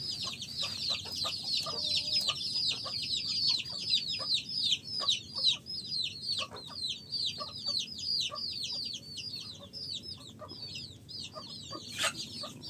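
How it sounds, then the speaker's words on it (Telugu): Native country chicks give rapid, high, repeated peeps while adult hens cluck softly at close range indoors. The chirping is busy and continuous, with occasional sharp pecks or taps. "కోడి పిల్లలు చూడండి ఫ్రెండ్స్"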